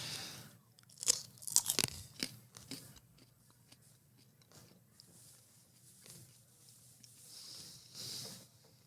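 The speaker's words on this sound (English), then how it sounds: "We're an ASMR podcast right now. Yes, eating food." Chili peppers are bitten and chewed up close, with a burst of sharp crunches early on. Quieter chewing and mouth sounds follow, and there is no clear talk.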